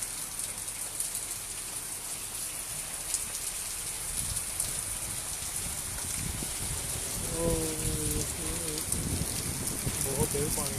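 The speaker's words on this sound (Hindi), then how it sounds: "बारिश हो रही है इधर" Heavy rain falling steadily on surfaces in Taif, a dense constant hiss throughout, with a voice speaking over it in the second half.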